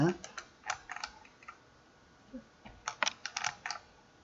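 A computer mouse clicks repeatedly during drafting-software work: small sharp clicks, some single and some in quick clusters, quiet and close, with pauses between bursts.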